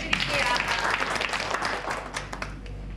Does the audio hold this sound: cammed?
no